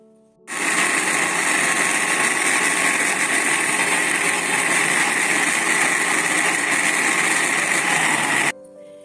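An electric grinder jug blends ginger garlic paste with a loud, steady high-pitched whir that starts abruptly, runs for about eight seconds and cuts off sharply.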